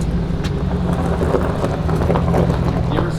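An LS V8 engine idling outdoors in a yard, a steady low rumbling drone with some wind buffeting on the microphone, close and continuous.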